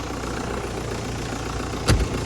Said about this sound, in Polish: słychać, że ciągnik ma obciążenie